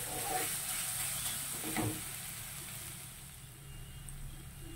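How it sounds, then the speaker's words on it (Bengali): Potatoes seasoned with salt and turmeric frying in a pan for chowmein, a soft continuous sizzle and hiss with a brief stirring scrape in the middle, no talking. "এইবার ভালো করে এই আলুটাকে আমি ভেজে নিচ্ছি"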